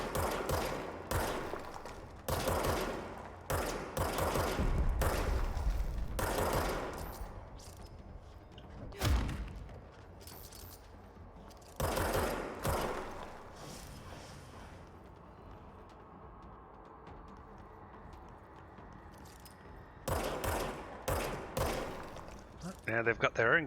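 Gunfire from the video game Control comes in repeated heavy bursts of shots and thuds, loud and close, with pauses between volleys and a voice talking in places.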